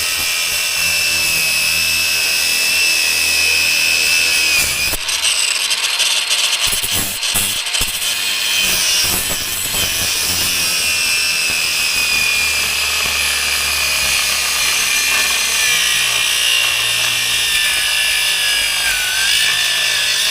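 A grinder works down a wheel stud on a 7K trailer axle of a car hauler equipment trailer, a harsh continuous grinding roar close by with brief breaks around the middle, no voices.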